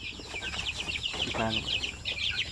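Native chicks cheeping in a poultry pen, shrill high peeps repeating throughout, some overlapping, with clucking and other farm fowl noises close by; someone talks over them.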